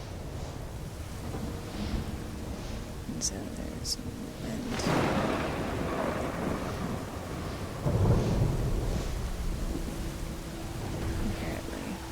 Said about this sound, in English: Flying in a lightning storm.